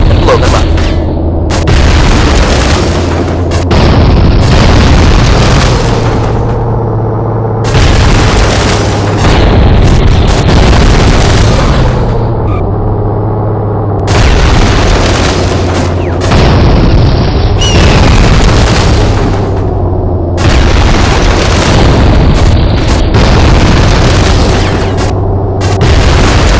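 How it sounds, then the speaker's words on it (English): Repeated loud explosions and machine-gun bursts from a vehicle blowing up barrels in a training facility in the video game Interstate '82, booming in heavy clusters with brief gaps throughout. "Fire your machine guns at them and blow them up."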